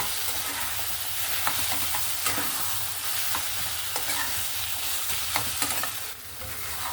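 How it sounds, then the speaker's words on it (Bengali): Taro leaves stirred in a pan with a little mustard oil, making a continuous close frying sizzle broken by repeated scraping strokes and soft clacks of the spoon against the pan, with no voices. "আর তার সঙ্গে দিয়ে দেব একটু সামান্য সর্ষের তেল দিয়ে আবারও ভালো করে মিক্স করে নেব"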